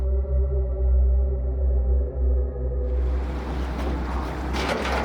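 Tour boat engine droning on a glacier lake in Patagonia, a steady low hum with a tonal whine, then wind and water noise washing in over the rumble in the second half.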